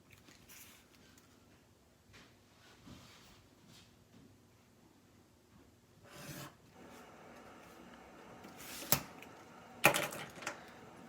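Pen strokes rasp and scratch across paper while a line is sketched for a math graph, quiet and close with brief louder scrapes near the end.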